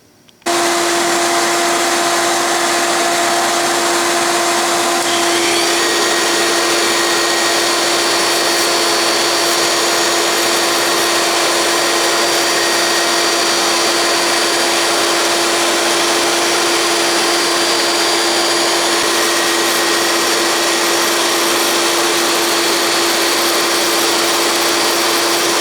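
A diamond dresser dressing the grinding wheel of a tool post grinder on a draped Atlas lathe, with a vacuum running underneath: a loud, steady whine and broadband roar holding constant throughout, no talk.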